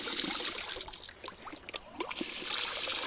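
Water trickles softly into a bottle being filled outdoors during a bike trip. It is a faint, bubbling dribble that thins briefly in the middle before running steadily again.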